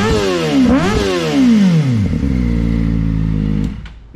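A 2023 Kawasaki ZX4RR with a slip-on exhaust revs hard, its high-pitched inline-four engine sweeping up and down through several quick blips before settling to a steady idle and cutting off, loud and close.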